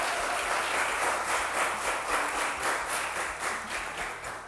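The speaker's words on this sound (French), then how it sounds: "Applaudissons." A studio audience at a game show claps in sustained applause, a bright, even wash of many hands that stays steady and fades a little toward the end.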